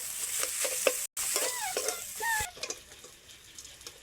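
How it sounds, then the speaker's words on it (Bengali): A spatula works through a pan of fried potato filling for spring rolls, scraping and mashing over a steady low sizzle in several close, uneven strokes, with a brief gap near the start. "মিনিট নাড়ার পর আলুগুলোকে খুন্তি দিয়ে এরকম ঘেঁটে দিতে হবে একটু"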